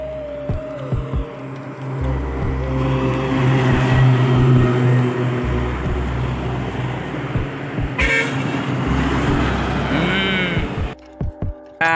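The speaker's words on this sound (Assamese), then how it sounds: "আৰ্মি গাড়ী আহি আছে," Army vehicles pass along a road, their engines humming loudly while horns toot repeatedly, with a sharper burst of traffic noise near the end.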